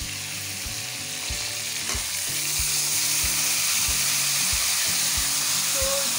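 Ginger and garlic go into chicken karahi frying in a pan, making a loud, broad sizzle that swells after a couple of seconds, with a rhythmic series of low knocks from stirring, and no talking.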